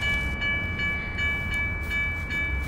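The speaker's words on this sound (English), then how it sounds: "And then I had a train coming." A train rumbles in a crash-themed video game, its steady loud low roar carrying a sustained horn-like tone over continuous rolling rail noise with faint periodic clacks throughout.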